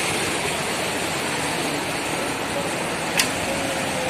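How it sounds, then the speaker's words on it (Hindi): Floodwater rushes around a bridge as a dense, steady roar of churning water, loud and unbroken from start to finish, with one faint click near the end. "इतना प्रेशर पानी पूरी तरह चारों ओर पानी ही पानी भरा हुआ है"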